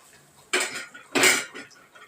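Garlic dropped into a hot pan in Telugu home cooking, giving two loud close bursts of sizzling with metallic clatter, then quieter frying.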